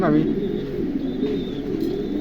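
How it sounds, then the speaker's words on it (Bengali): A pair of Bukhara pigeons coo in soft, low, repeated throaty notes close by, partly under someone speaking. "খুবই চমৎকার এক জোড়া কবুতর"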